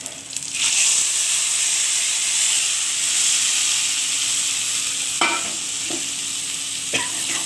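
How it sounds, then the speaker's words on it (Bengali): Marinated soybean chunks hit a hot pan and fry with a broad, steady sizzle and steamy hiss, broken by a few sharp stirring scrapes near the end. "এবার দিয়ে দেবো মাখিয়ে রাখা সয়াবিনটা।"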